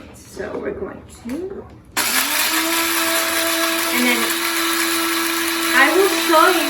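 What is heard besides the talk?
coffee grinder grinding cacao nibs into paste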